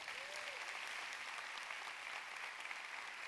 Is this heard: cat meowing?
no